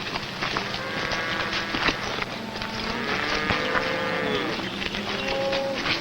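A herd of cattle moos repeatedly from several animals at once, long overlapping calls near and far over steady outdoor rumble, with no talk.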